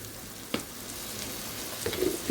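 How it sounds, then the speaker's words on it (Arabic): Flour toasting in butter in a pan for béchamel, giving a steady, soft frying sizzle with a couple of faint scraping touches. The sizzle is quiet, and no one talks. "رح نحط لهم كمان معلقتين كبار من الطحين. بدي اياهم يتحمصوا تطلع ريحتهم."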